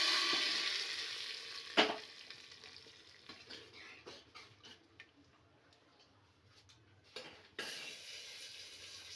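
Quiet frying sizzle as tempering is poured into lentil soup with tamarind juice, with a few sharp clinks and stirring taps, a steady hiss fading then returning.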